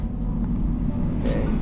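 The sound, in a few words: 2013 Smart Fortwo accelerating at full throttle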